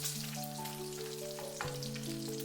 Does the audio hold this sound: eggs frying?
yes